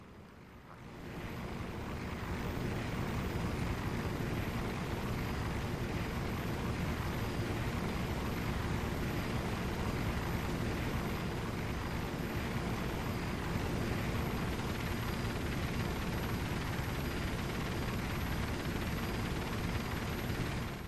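A helicopter in the video game Operation Flashpoint: Dragon Rising, its engine and rotor starting up, then holding a loud, dense, continuous drone with a thin high whine above it, no voices.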